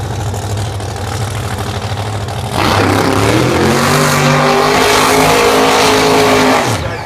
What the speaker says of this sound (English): Beautiful 521 cubic inch 67 Chevy 2 with the upside down bumper on